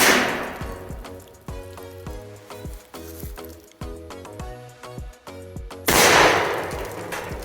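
Rapid shots from a 12 gauge shotgun and a .22 fired into pole barn metal at 25 feet, sharp impacts repeating in an uneven rhythm about every half second, closing with a louder, longer blast.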